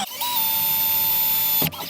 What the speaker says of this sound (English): Then drilling